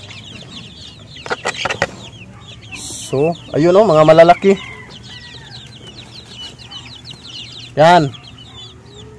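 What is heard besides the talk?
chickens clucking while being fed maggots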